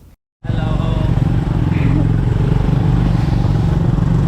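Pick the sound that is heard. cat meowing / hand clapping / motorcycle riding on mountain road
motorcycle riding on mountain road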